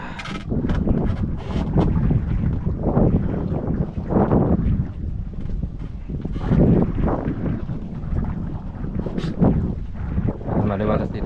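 Wind buffets the microphone on the open upper deck of a boat at sea, a loud, gusty rumble that rises and falls, with people talking underneath.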